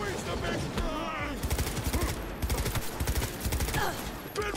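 Heavy gunfire from a big gun in Cyberpunk 2077 comes in rapid repeated bursts, loud and close, with shouting voices over the shots.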